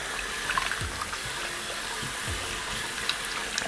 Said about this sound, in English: So get some cold running water. And wash up your meat, man.